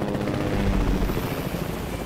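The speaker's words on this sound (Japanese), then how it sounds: "なんか味方が、もしかしたらヘリコプターで迎えに来てくれた" A helicopter in the Fortnite video game arrives with a dense, steady rotor roar and thudding low rumble, loud and continuous throughout, with no voices over it.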